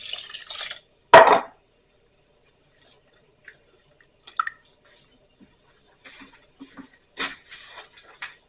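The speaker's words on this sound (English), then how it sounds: "get some more water in here." Water going into a cast iron pot: a brief splashy pour, then scattered drips and small clinks against the metal, fairly close and otherwise quiet.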